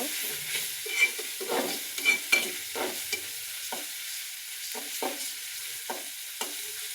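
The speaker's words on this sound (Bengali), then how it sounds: "এখন এই মশলাগুলো ভালো করে ভেজে নিব কারণ রসুনের কাঁচা গন্ধটা চাওয়া অব্দি ভেজে নেব" Ground garlic and cumin paste frying in a pan, stirred repeatedly with rhythmic scraping strokes over a steady sizzle, close and moderately loud with no talking.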